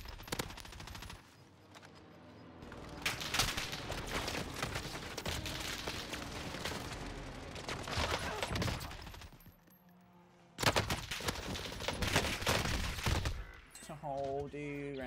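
Rapid video-game gunfire in a bursting fusillade, loud and dense for most of the stretch, with a brief lull before another heavy volley.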